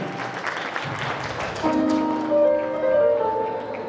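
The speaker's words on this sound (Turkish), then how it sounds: "bir alkışlar gelsin" Wedding guests clapping together in a hall, a steady burst of applause that softens as music with sustained tones rises underneath it.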